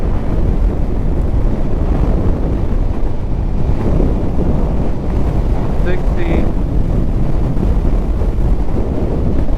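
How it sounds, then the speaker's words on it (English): Rushing wind buffets the microphone while riding a 2024 Honda ADV 160 scooter at speed, a loud, continuous low roar with no clear voices. "Oh, I feel that wind."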